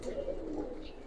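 A male fancy pigeon gives a single short, low coo, close by and fairly soft against a faint background hum.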